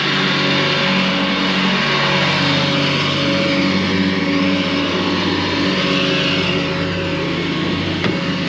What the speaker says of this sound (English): Lawn is getting cut.